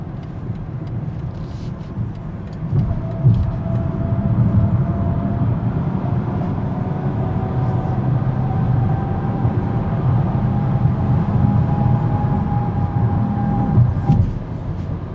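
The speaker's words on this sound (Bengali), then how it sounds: "সো আমি এখন সিক্সটি মাইল পার আওয়ারে চালাচ্ছি" A 2026 BMW X5 cruises at about sixty miles per hour, giving a steady, loud cabin drone of road and engine noise with a faint tonal whine that runs throughout.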